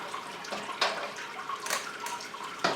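Liquid draining from a beer brewing vessel, a continuous trickling, splashing flow with a few brief clunks, moderately close and steady.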